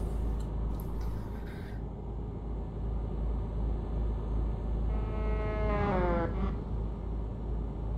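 A truck horn in Euro Truck Simulator sounds once in a sustained, wavering blast near the end, over a constant low engine rumble and road drone.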